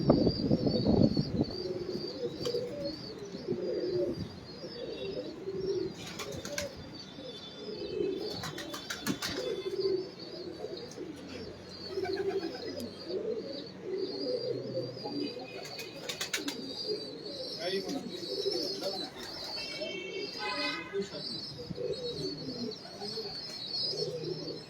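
Show pigeons coo continuously in soft, throaty, repeated bursts. Several birds overlap close by, with occasional chirps and brief bright rustles or wing flutters.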